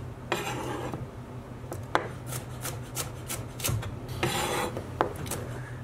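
A knife thinly slicing vegetables on a cutting board for chunky salsa, with close, rasping strokes and soft taps in an uneven rhythm against a quiet background hum.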